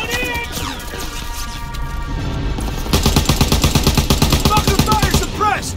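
Sustained machine gun fire in the World War II shooter Call of Duty: WWII, a steady battle din that bursts into dense, rapid automatic volleys for the last few seconds, with shouted voices mixed in.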